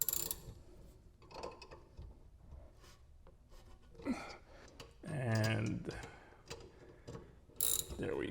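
A 17mm wrench ratchets and clicks while tightening a bolt during a rear brake rebuild on a 2004–2008 Acura TL, close-up mechanical clicking with someone speaking quietly in between.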